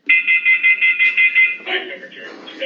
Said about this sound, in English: And blares alarms if there is a fever.